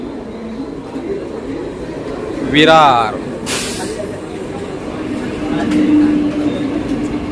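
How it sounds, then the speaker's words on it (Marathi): A commuter train pulls into Virar station on a rainy monsoon day with a rolling rumble, a brief sharp hiss of air brakes and a squeal, while a voice speaks over the platform noise. "तर आता ट्रेन आलेली आहे आपली"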